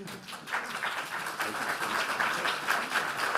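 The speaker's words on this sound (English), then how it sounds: "One more round of applause" A room at a residents association meeting breaks into a round of applause for an award recipient, a moderate continuous clatter of hands that swells slightly, with a voice faintly audible at the start.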